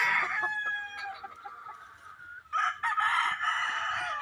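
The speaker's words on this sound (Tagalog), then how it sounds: "Mga pullets." Young hens in a farm setting make a steady stream of clucks and drawn-out calls, fairly close and loud, with a denser burst of vocalizing in the second half and no human speech.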